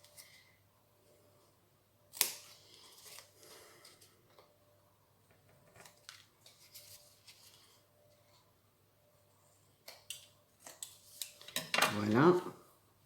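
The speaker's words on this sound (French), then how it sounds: "Là je vais couper un peu en biais" Scissors snip paper at an angle while making a Christmas scrapbook album page: quiet, scattered clicks and rustles, building to a louder burst of cutting near the end.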